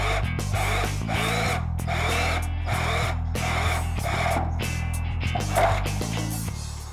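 A power drill bores holes in the body panel of a Toyota Prado 150 to fit a snorkel, its motor whining steadily in repeated bursts with short pauses between them, close and clear with no talking.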